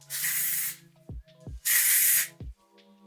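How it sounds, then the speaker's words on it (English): Texture spray misted onto a synthetic wig in two bursts, each a loud, steady aerosol hiss lasting under a second, separated by short clicks and a faint tonal hum. "you may need to put some texture spray on it just to kind of take down that unnatural shine"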